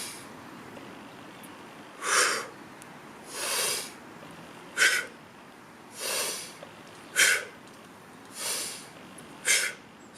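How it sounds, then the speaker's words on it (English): Forceful, deliberate breaths during an aikido exercise come in seven loud, evenly spaced bursts, some drawn-out exhalations and others short sharp puffs, heard close and alone. "So you can see I'm breathing forcefully. I'm deliberately making a noise."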